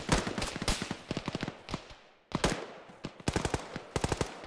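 Assault rifle fire in Arma, a military shooter, sounding as several sharp bursts of rapid automatic shots with a brief pause in the middle, loud and close.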